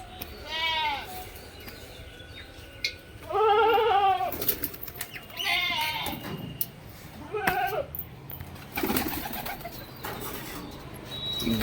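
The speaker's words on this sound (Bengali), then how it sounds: "দুটো পায়রা আজকে বন্ধুরা বাইরে ছেড়ে রেখেছি।" Pigeons let out of their loft cooing in several separate drawn-out phrases, close and clear, with gaps of quiet between calls.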